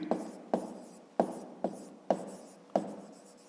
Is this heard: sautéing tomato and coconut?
no